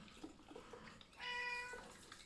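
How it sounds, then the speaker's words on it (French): An annoyed cat lets out a single drawn-out, plaintive meow over its toy, close by in a quiet room, after a few faint soft sounds. "ça, c'est le chat qui est pas content parce que c'est son jouet"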